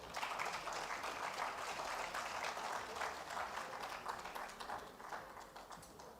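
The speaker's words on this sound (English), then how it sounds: "let's give them a big round of applause again" Sustained applause from a large crowd at a trade fair in Lagos, Nigeria, a dense wash of clapping that stays loud and gradually thins toward the end.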